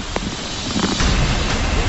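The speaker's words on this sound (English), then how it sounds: "Here comes the heavy rain." Heavy rain from a tropical storm, a close, noisy roar of downpour with wind buffeting the microphone, steady and rough throughout a short burst.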